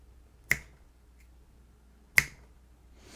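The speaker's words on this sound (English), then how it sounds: "I'm gonna just kind of snap my fingers" Two sharp, isolated finger snaps, close and crisp, about a second and a half apart over a faint low room hum, captured with a TASCAM DR-44WL recorder.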